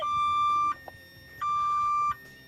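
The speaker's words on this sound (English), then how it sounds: "I'm going to shut it off with the remote control so you can hear the notification" Two long, steady electronic beeps from a car alarm remote on a 1966 Ford Mustang, loud and close, each lasting under a second with a short gap between them.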